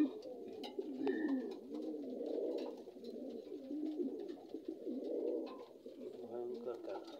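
Pigeons coo continuously at a pigeon farm, a low rolling chorus of overlapping calls close by, with a few brief chirps and people talking over it at moments.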